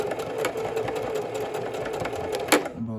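Sewing machine top-stitching a fabric label, running in a fast, steady close whir that stops abruptly near the end.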